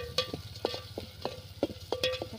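Spice paste ground fine in a mortar, cooking in oil for a jackfruit dish: a soft, low sizzle under regular metallic clinks of a spoon stirring the pan, close and fairly quiet.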